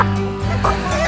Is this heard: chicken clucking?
yes